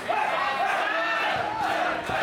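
Crowd at a live independent professional wrestling match cheers and shouts steadily, a dense roar of voices filling the hall as a wrestler rallies them, with a commentator talking over it.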